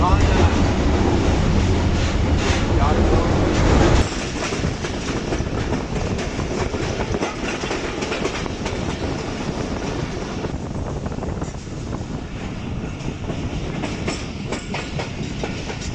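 Shah Hussain Express passenger train running from Lahore to Karachi, a steady loud rumble and clickety-clack of wheels on rails throughout, heavier for the first few seconds and then continuing evenly.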